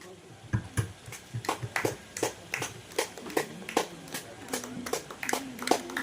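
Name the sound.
applause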